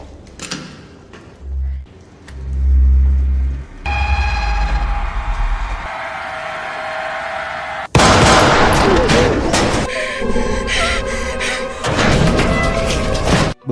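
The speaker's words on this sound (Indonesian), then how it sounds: "seorang wanita tua yang tadinya berpura-pura mati bangkit dan menembaknya tepat di perut" Gunfire rings out in an action film, with sharp shots and bursts of rapid fire in the second half, preceded by deep booming hits and a sustained tone, all loud and mixed with a film score.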